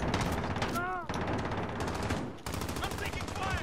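Automatic gunfire in a Modern Warfare multiplayer match, rapid sustained bursts broken by brief gaps, fairly quiet overall with other weapon noise mixed in.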